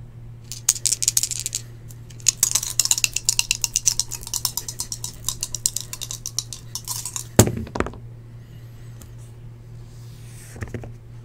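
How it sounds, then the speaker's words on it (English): Dice rattle and clatter on a hard surface during a sports trading card box break, a long run of rapid small clicks followed by one louder tumbling burst. The sound is close, with no talk. "But I'll roll the dice again."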